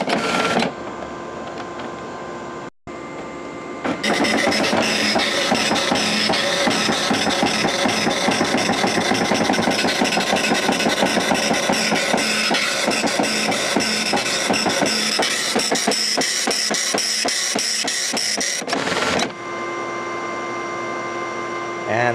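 An Okidata Pacemark 3410 9-pin wide-format dot matrix printer prints 20-characters-per-inch Courier text, a loud, continuous rasping buzz of rapid pin strikes with carriage passes, starting after a short gap and stopping briefly near the end.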